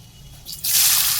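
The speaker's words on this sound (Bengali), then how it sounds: "প্রথমে কড়াইতে দিয়ে দিলাম কালো জিরে, অবশ্যই সর্ষের তেল" Black cumin seeds hit hot mustard oil in a wok, and after a quiet start a loud, steady frying hiss bursts on and holds to the end.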